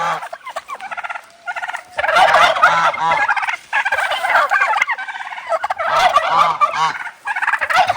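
Turkeys gobble loudly and close by in repeated rippling bursts, several birds overlapping in waves with short pauses between calls.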